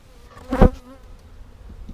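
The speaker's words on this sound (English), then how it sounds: "Dump the rest of those bees in" Honey bees buzzing in a short, loud burst as the leftover bees are dumped from a nuc package into an existing 10-frame hive, then fading to a faint hum.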